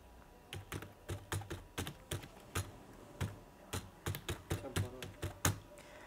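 Someone types an email address on a computer keyboard: quick, irregular clicks and taps of keys, close and fairly quiet, in uneven bursts with brief pauses and no talking.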